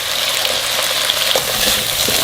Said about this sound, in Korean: 저는 양파 넣고 한 번 더 볶아주세요.